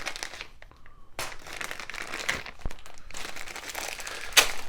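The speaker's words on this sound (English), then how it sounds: "And no shortage of plastic bags." Plastic bags from a Tamiya Volkswagen Type 2 M-06 model kit crinkle and rustle close up in several bursts, with brief pauses and a sharper crackle near the end.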